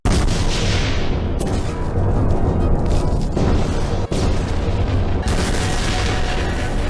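A huge anime-style explosion booms loud and sustained, a dense roaring blast with rumbling debris that fills the whole stretch, briefly cutting out near the end before the roar continues.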